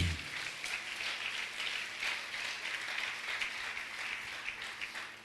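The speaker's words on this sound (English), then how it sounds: "Somebody clap your hand for Jesus" A church congregation claps hands together after a call to praise Jesus, a dense, steady patter of many hands filling the room, continuous and fairly loud with no voices standing out.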